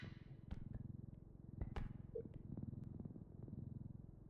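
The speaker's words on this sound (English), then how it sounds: "Why do you hear purring?" A cat purrs close and steady during an R.E.P.O game session, a soft rhythmic rumble broken by a few faint clicks and taps.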